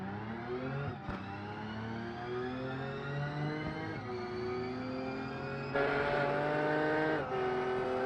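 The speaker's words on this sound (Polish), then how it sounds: "Ale auto brzmi całkiem fajnie" An Aston Martin V12 cabriolet revs in the BeamNG driving game, its engine climbing through gears in long rising sweeps, each shift dropping the pitch briefly before it winds up again, loud and close with no talk.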